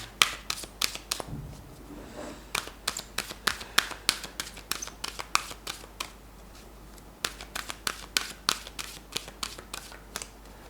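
Tarot and oracle cards shuffled by hand, close and crisp, with a steady run of quick papery riffles and flicks repeating across the whole stretch and no voice.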